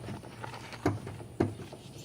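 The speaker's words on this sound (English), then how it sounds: "you can hear the tie rod and the brushings right now" Worn tie rods and bushings on a 2002 Ford Focus clunk twice, each a short, dull knock heard from inside the car over a low background rumble.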